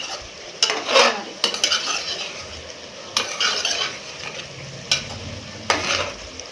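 Chicken pieces for chicken pickle sizzle steadily in a pan while a utensil scrapes and stirs them in repeated bursts, close and clear, with no talking.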